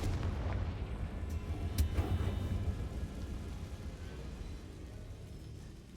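Blasting-spell explosion effect, a sharp boom near the two-second mark over a heavy rumbling low roar that slowly fades, with no voices.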